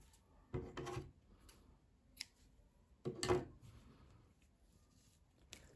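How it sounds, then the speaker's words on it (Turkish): Scissors snip through yarn while a crocheted collar is being finished, giving two soft, close crunching cuts about two and a half seconds apart among faint handling rustles, with no talking. "İpliği kesiyorum."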